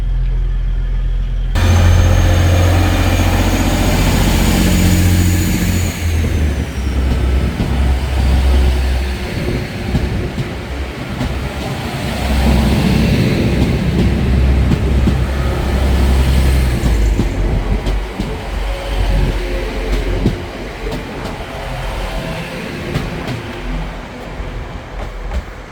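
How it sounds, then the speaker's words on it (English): A TransPennine Express passenger train pulls out of a Yorkshire station, its engine rumble and wheel noise building loud and close, then rolling on steadily with clatter and rail squeal for the whole stretch, with no voices. "That's the Transpennine Express service out of here."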